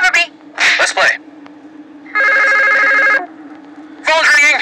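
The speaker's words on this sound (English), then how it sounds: "Phone's ringing. Somebody's ordering pizza." An electronic telephone ring sounds in a Krusty Krab pizza delivery game played in Minecraft, a single sustained trilling burst of about a second between stretches of animated voices talking.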